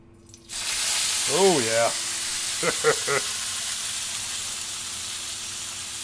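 Beef tri-tip hits a hot grill and breaks into a loud, steady sizzle that holds for several seconds, with a brief exclamation from a voice early on.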